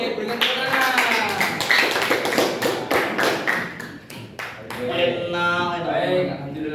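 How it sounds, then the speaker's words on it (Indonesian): A classroom audience claps after a student group's AI presentation, the clapping sounding as a dense patter of taps under voices that carry on talking throughout. "Berikan tepuk tangan."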